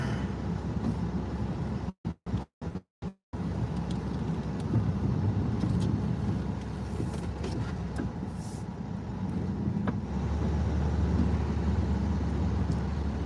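A snow plow truck drives through northern Maine with a continuous low engine and road rumble heard from inside the cab. The sound briefly cuts out a couple of times early on, and nobody talks.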